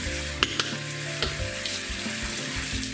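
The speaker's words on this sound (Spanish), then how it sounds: "El tomate ya lo tengo casi frito" Tomato frying in a pan alongside pork and lamb for a rice dish, a steady close sizzle with a few sharp pops and spatters and light stirring scrapes throughout.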